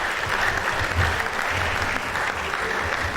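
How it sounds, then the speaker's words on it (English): A hall full of alumni keeps applauding the Vice Chancellor at an estate management reunion, dense continuous clapping at a steady level with a low murmur of voices underneath. "Let us sustain the applause for the Vice Chancellor"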